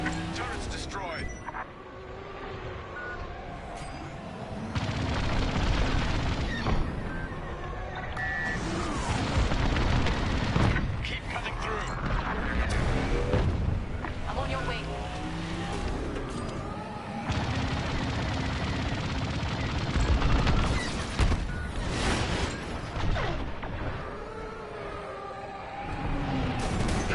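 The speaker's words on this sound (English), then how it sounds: "we're launching beryllium missiles from the Overseer now" Missile launches and explosions in the Star Wars: Squadrons space combat video game, heavy booming blasts and rumbling gunfire bursts in dense continuous layers alongside radio-style voices and engine noise.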